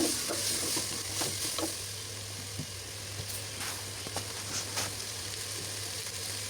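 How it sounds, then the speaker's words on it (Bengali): Chana dal being stirred together with winter vegetables in a pan for khichuri, a steady soft sizzle under repeated scraping and stirring strokes, close and fairly quiet, with no talking. "এখন চা ডালের সাথে সবজির সাথে মিশিয়ে নাড়াচাড়া করতে থাকব"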